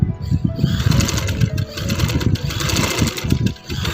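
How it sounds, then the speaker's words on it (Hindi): A sewing machine stitches lace along a fabric edge with a fast, close, rhythmic mechanical whir and clatter that runs nearly nonstop, briefly easing near the end. "इस तरह से किनारे किनारे हम सिलाई लगा ली।"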